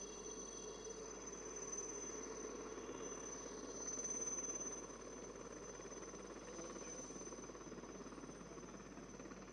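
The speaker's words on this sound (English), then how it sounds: "The helicopters have commenced the spot turn." A steady, throbbing rotor drone from helicopters performing a spot turn at a Beating Retreat and Tattoo ceremony hovers continuously at moderate distance, swelling slightly midway before settling again.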